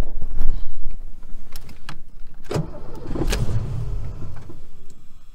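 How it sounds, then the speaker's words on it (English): A Mustang's starter cranks in short whirring bursts on a cold start attempt without the engine catching, with clunks and clicks between tries, fairly close and loud. "we're going to see if the Mustang will start, run, like, do a cold start, run under its own power"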